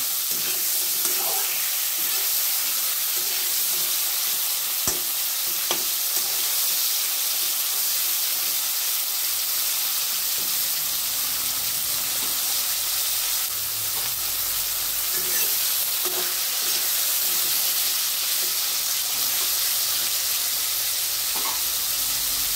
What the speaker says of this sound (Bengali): আর ভালো করে নেড়ে চেড়ে ঢাকা দিয়ে একটু ভেজে নেব।